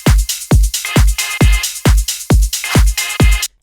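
A tech house synth lead made in Serum with distortion, delay and reverb pulses in a steady beat of about two hits per second, each with a punchy low thump and a gritty, bright tail, loud and dense.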